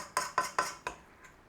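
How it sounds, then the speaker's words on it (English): A meat mixture for olive loaf being chopped in a bowl, with four sharp metallic knocks in quick succession, then a fainter fifth, close and alone. "we're going to put this meat mixture in there and we're going to give it a bit of a mix in. Just give it a bit of a chop in."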